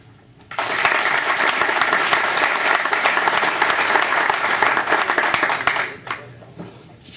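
Loud, sustained applause from a crowd that starts abruptly, holds steady for several seconds, then tapers off into a few scattered claps.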